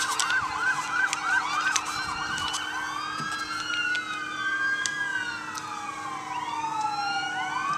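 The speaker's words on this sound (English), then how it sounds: "Wonderful sirens in the background." Several emergency sirens wail and yelp together, sweeping up and down as they pass by at moderate distance over steady traffic noise near a beach.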